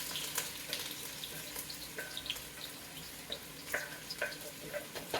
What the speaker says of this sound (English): I can add the sausages and the onions together.